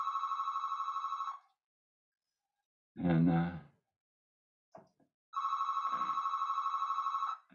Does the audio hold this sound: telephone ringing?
yes